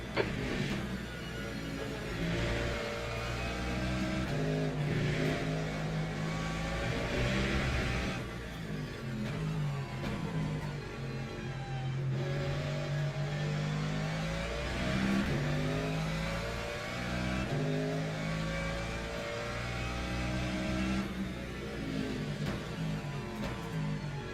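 A race car engine in the Le Mans Ultimate sim racing game revs and surges through repeated rises and drops in pitch, loud and close, with no talk over it.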